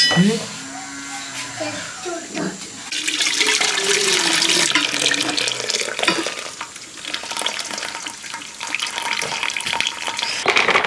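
Boiled tapioca being drained, with hot water pouring and splashing in a steady broadband rush for most of the clip after a brief spoken voice at the start.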